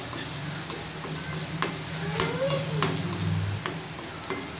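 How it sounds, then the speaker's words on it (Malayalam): Small onions sautéing in a pan for Malabar thari kanji, a bright continuous sizzle with occasional spoon clicks and stirring scrapes, close and fairly loud. "ആ ഒരു സ്മെല്ലൊക്കെ ഒന്ന് മാറുന്ന വരെ ഒന്ന് വഴറ്റി കൊടുക്കാം"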